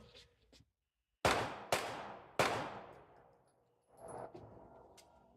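Gunshots in a Walmart frozen section near the front door: three sharp, loud, near reports in quick succession, with quieter noises before and after and no speech.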